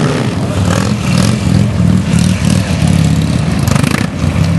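A Buell motorcycle is revved hard as it is lifted into a wheelie during a stunt lesson, its engine loud and close with a rough, fluctuating roar that never lets up.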